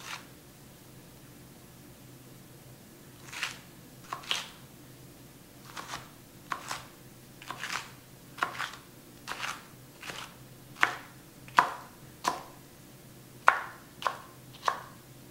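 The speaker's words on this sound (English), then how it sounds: "Now that I took all the seeds out of my peppers, I'm going to roughly chop them." A knife chops seeded peppers roughly on a cutting board at home, with a series of distinct crisp cuts, irregular at first and then steadier, close and moderately faint against a quiet room.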